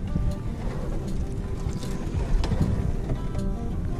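A small fishing boat's engine drones steadily up close on a crab-fishing trip, with a low rumble and wind and water noise washing over it throughout.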